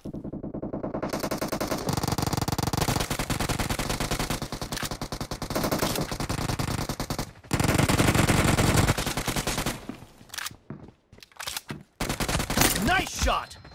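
Rapid automatic gunfire from PUBG Mobile in team deathmatch, loud and sustained in long bursts with brief pauses, ending in scattered shots and clatter.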